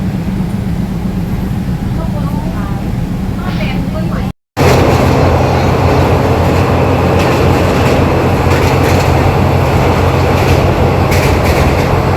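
A passenger train rumbles steadily along the rails toward Phetchaburi, Thailand, with a constant low drone and faint rhythmic clatter, briefly cut out by a short gap, then continuing loud and close.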